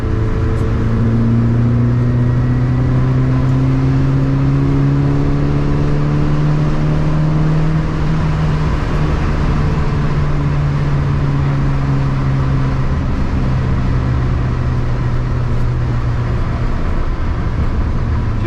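A Renault R8 Proto with a swapped 1397cc engine accelerating, its loud engine drone climbing steadily in pitch under heavy in-car rumble and road noise for the whole stretch.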